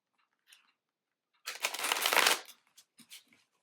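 Tarot cards shuffled in one dense riffling burst of about a second, close and fairly loud, with a few light card taps and handling clicks before and after in otherwise quiet surroundings.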